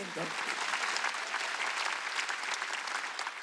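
A church congregation claps together at a Wednesday worship service, a steady dense round of applause that fills the room without pause from start to finish.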